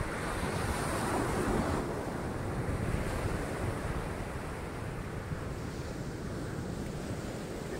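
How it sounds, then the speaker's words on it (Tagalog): Ocean waves wash onto the beach at Morong, Bataan, in a constant broad roar with wind buffeting the microphone. The surf swells slightly louder early on, and no one speaks. "Ito na yung alon."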